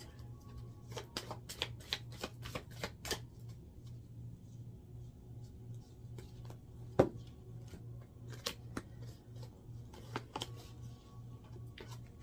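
Tarot cards being shuffled over and over, a run of crisp riffling snaps and taps close up, with a low steady hum beneath.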